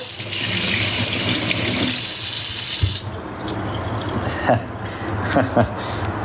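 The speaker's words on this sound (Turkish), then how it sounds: "Elimi yıkıyorum." A bathroom tap runs steadily with water splashing while hands are washed, a loud broadband rush for about three seconds, then it stops and a person talks with a few faint clinks.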